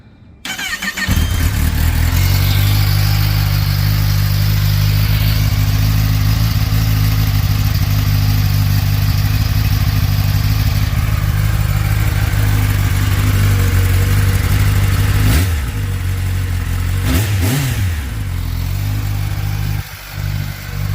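A brand-new Kawasaki ZX-10R sport motorcycle fires up for its first start, then holds a loud, steady, close idle for several seconds before two brief throttle blips near the end.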